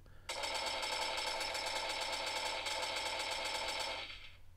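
Shooter gunfire in a game demo built with touch-screen virtual controls for Unity: one continuous, loud rapid-fire burst that holds steady for about four seconds before cutting off.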